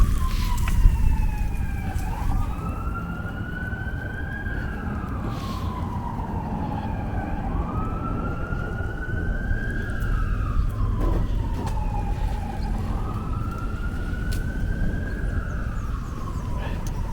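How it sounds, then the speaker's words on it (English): A fire truck siren wails through repeated rising and falling sweeps on an Upper West Side street in New York City. It stays loud and steady over continuous traffic rumble. "There's a fire battalion, so usually the fire truck is not far behind when you see the battalion go out."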